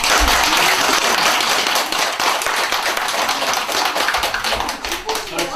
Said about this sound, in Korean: 저는 박수를 쳐드리고 싶습니다